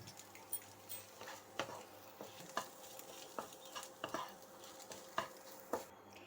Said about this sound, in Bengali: দেখো আমি 3টে ডিমের এমনি করে একটু ভুজিয়াটা করে নিচ্ছি